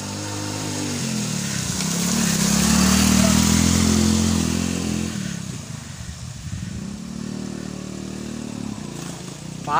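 A motorcycle ridden along a jungle track, its engine droning steadily close by, swelling louder mid-way and then easing back, with rough clattering mixed in.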